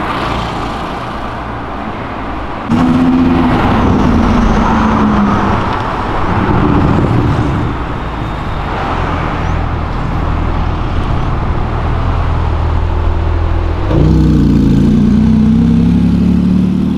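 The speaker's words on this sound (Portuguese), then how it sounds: "Que Porsche era aquela preta que passou?" Black Porsche passing on an avenue among steady loud traffic, with engine surges rising near and falling away amid continuous road noise.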